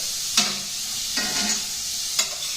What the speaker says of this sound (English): I'm going to deglaze.